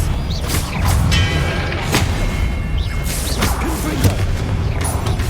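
A Confringo spell blast in Hogwarts Legacy lands amid fighting: several sharp booming hits with whooshes and rumbles, loud and close, set against ongoing battle din.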